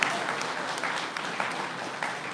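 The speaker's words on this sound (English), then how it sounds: "I'd like to have a round of applause for them because they really did put in a lot of tireless hours." A crowd at an economic development announcement gives a round of applause for the organisers, a steady patter of clapping that holds throughout at moderate distance.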